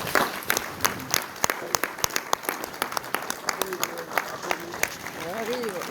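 A studio audience claps to welcome a guest onto a French comedy show. The claps come as sharp, scattered bursts that build into steady applause, with voices and a brief whoop heard over them.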